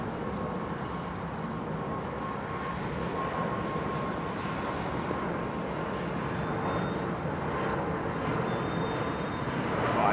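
An Air Baltic Airbus A220 jet at London Heathrow Airport gives a steady, broad engine roar that holds at a fairly even level for about ten seconds, with a faint tonal whine above the rumble.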